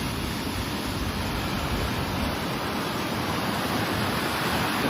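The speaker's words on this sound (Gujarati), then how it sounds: "અત્યારે બે કાંઠે તાપી હાલી જાય છે" The flooded Tapi river, swollen bank to bank by released water, rushes in a continuous loud roar of flowing water with a steady broadband wash and wind buffeting, no voices.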